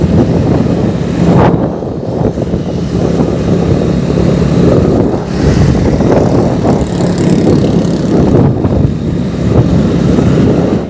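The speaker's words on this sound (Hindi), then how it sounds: "सामने से गाड़ियाँ आ रही हैं, कुछ ट्रक जा रहे हैं, कोई आ रहे हैं सामने से, मोटरसाइकिल जा रहा है हमारे सामने।" Road traffic with trucks and a motorcycle passing on a very windy, stormy day, heard from a moving vehicle as a loud, continuous engine and wind roar with several vehicles surging past close by.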